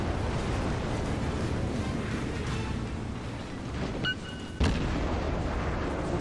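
Naval cruiser guns fire in the World of Warships video game, aboard an Orlan class cruiser: a steady, loud roar of sea and engine noise, broken by one sharp, heavy blast near the end.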